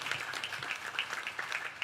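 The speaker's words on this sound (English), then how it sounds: "And I ask all of you to give her a round of applause, please" A temple gathering at an anniversary Ramayan Yagna in Mississauga gives a round of applause for a woman, a soft, fairly distant patter of many hands clapping, steady and unbroken across the short stretch.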